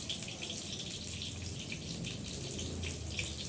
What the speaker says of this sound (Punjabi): ਇਹ ਸਾਰਾ ਕੋੜਾ ਪਾਣੀ ਨਿਕਲ ਜਾਂਦਾ